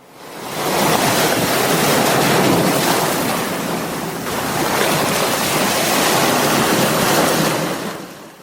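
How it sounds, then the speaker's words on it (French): Violent ocean waves pound the seashore in a loud, continuous roar of surf, swelling and easing slightly across the stretch with wind buffeting the microphone. "De vagues violentes du côté du bord de mer"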